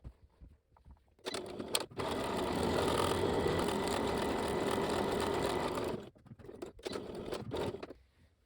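Sewing machine stitching a triple-folded 1 cm hem along the long edge of cloth for a sleeveless kimono, running in a steady rapid whir for about five seconds, then a few shorter bursts with brief pauses, close and moderately quiet.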